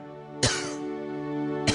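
Two sharp coughs from a character in the Gabriel Knight 3 video game, a loud one near the start and a shorter one at the end, set over a faint steady tonal hum.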